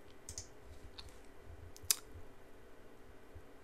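A single sharp computer mouse click lands near the middle, with a couple of fainter small clicks before it, over quiet room hiss while working in photo-editing software.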